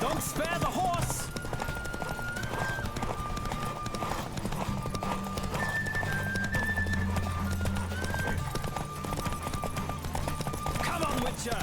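Galloping hooves from a horse race in The Witcher 3 pound steadily and loudly throughout, with an occasional neigh, game music and people calling out over the rhythm.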